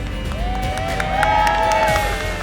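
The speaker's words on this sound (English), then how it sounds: "people saying, "Go McPherson," just cheering on these students" A crowd cheers continuously around McPherson College students at a car show field, with overlapping voices, whistles and shouts rising and falling at a steady, fairly loud level.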